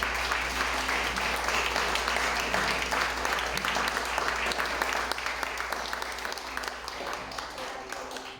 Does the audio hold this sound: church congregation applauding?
yes